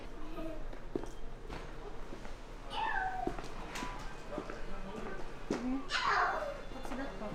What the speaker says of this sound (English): It's a cute kitty.